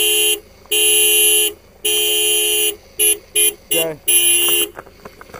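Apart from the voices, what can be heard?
car horn beeping while vehicle is stuck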